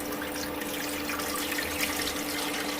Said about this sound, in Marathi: आता मस्त पाणी घालते.